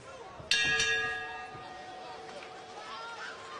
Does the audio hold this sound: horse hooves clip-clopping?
no